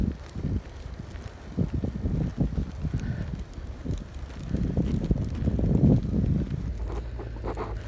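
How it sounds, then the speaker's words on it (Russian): Gusty wind during a snowstorm in the Moscow region, buffeting loudly and unevenly in low rumbling bursts of microphone wind noise, building toward the middle of the clip. "Только ветер теперь."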